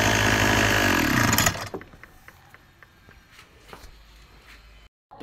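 A Mitsubishi TU33 grass-cutter engine roars loudly and steadily, then cuts off abruptly, leaving a quiet stretch of faint clicks and handling noises before a short burst of sound returns at the very end.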